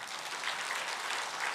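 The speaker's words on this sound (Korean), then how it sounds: "옳다고 생각하시면 박수 한번 하십시다" Church congregation applauding during a Sunday worship sermon, a steady, dense wash of clapping from many hands filling the room without pause.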